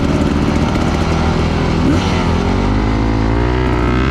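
Several enduro dirt bikes fire up and pull away together at a race start on a Texas trail, a loud, dense engine drone rising in pitch as the motorcycles accelerate off the line.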